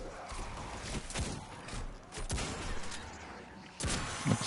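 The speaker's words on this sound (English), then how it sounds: "this is the new hand cannon that I just acquired" Hand cannon fired in Destiny 2, a few sharp bursts spaced across the moment amid steady game noise, with no speech.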